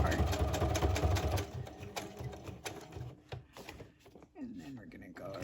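Sewing machine running a straight stitch through several stacked layers of a craft tag, a fast mechanical hum with rapid ticking, loud at first and then in short bursts, with talking partly over it.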